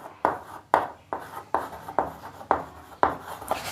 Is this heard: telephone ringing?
no